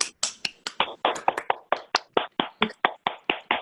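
Hand clapping over an online video call: about eighteen crisp, evenly spaced claps in a brisk, steady rhythm, close and alone, with no talk underneath.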